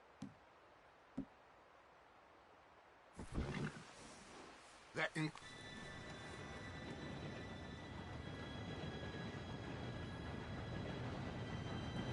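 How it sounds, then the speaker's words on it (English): A train in a video game pulls in after about three seconds, a broad rumbling roar with clanks and a steady tonal whine that builds and holds to the end, following a few quiet ticks. "Train should be here any minute now."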